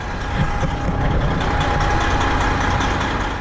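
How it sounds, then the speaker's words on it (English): A car engine hums steadily close by as the car approaches, a continuous low drone holding at even loudness throughout. "Of course there's a car coming."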